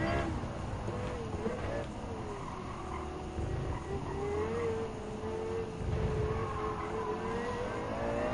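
A McLaren MP4-12C supercar races in Gran Turismo 7, its engine a steady, close, sustained drone whose pitch slowly rises and dips throughout.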